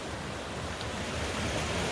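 A mountain creek in the Cline River backcountry, its water flowing in a steady, loud, broadband rush with no breaks, close to the microphone and alone without voices.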